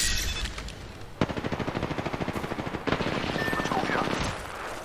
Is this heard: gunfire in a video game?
yes